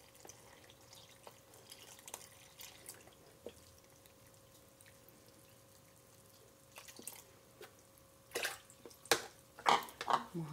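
Water poured into a homemade liquid soap mixture, a quiet, sparse scene that ends in several louder splashing bursts of pouring liquid near the close.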